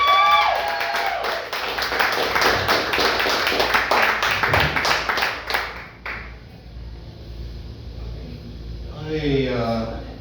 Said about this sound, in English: Everybody get really excited and start clapping for Christopher Anthony.